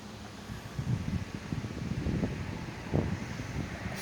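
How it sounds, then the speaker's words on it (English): Gusty autumn wind blowing on an outdoor balcony in chilly weather, a steady rushing roar swelling into stronger buffets near the middle and end, with no voices. "the winds are very gusty"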